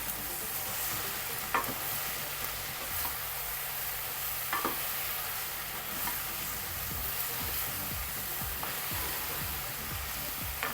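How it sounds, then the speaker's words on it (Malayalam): Okra aviyal with turmeric stirred in a hot pan: a continuous close sizzle with occasional scraping knocks of a spoon against the pan, no voices. "നല്ല മിക്സ് ചെയ്തിട്ട് ഒന്ന് അടച്ചു കൊടുക്കാം നമുക്ക്"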